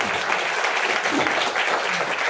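Audience applauding at a seminar in Faridabad, a dense continuous roar of clapping hands that holds steady and loud throughout.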